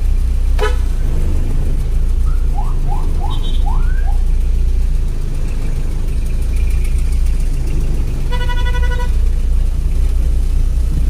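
Busy morning road traffic in central Iligan City, with loud continuous engine rumble, a run of short car horn toots, and a longer sustained horn blast near the end.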